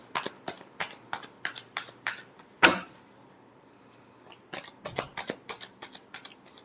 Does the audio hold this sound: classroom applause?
no